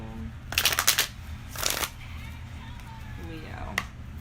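A deck of tarot cards being shuffled in two quick, crisp riffling bursts about a second apart, close and clear, with a quiet voice talking between them.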